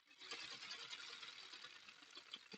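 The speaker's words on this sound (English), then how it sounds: "I didn't think about the sewing machine noise like you guys were talking" A sewing machine runs steadily with a fast mechanical chatter, faint and continuous throughout.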